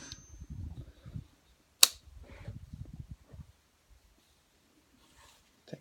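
A single sharp, loud shot from an S&W M&P 10 rifle loaded with Winchester 180gr Power Point ammunition, rising abruptly out of quiet outdoor ambience, while someone talks softly before and after.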